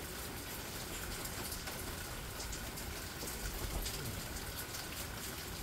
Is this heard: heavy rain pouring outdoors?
yes